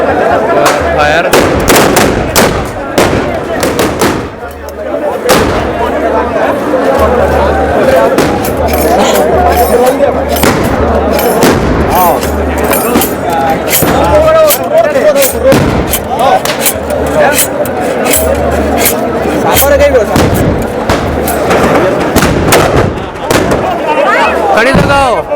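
Loud, repeated gunfire bursts from guns fired at Barood ki Holi in Menar village, sharp cracks and booms in rapid irregular succession over a dense crowd babble, with people shouting and talking throughout.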